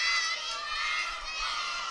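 Children at a birthday party shout happy birthday together in a sustained, excited crowd roar that stays fairly even and a little distant throughout.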